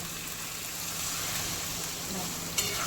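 A little water goes into spicy village-style chicken masala with potatoes, and the pan answers with a continuous, even sizzle at moderate volume, close by, with one brief clink near the end.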